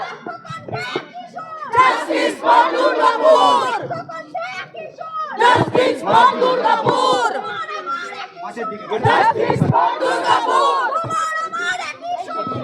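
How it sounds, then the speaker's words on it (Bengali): Protesters at a rally over Durgapur Medical College loudly chant slogans in unison, a dense crowd roar with rhythmic rising and falling shouts running continuously throughout. "স্লোগান উঠছে হোক প্রতিবাদ এবং উই ওয়ান্ট জাস্টিস শুনুন সেই স্লোগান"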